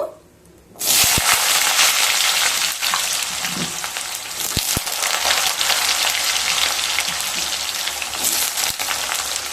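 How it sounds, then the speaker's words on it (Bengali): Two cut medium potatoes tipped into hot oil with whole cumin, a sudden loud sizzle that bursts in and holds as a steady, close frying hiss, with a few clinks of a utensil. "তেল থেকে যখন সুন্দর একটা স্মেল বেরোতে শুরু করবে, সেই সময় কেটে রাখা মিডিয়াম সাইজের দুটো আলু দিয়ে দেব।"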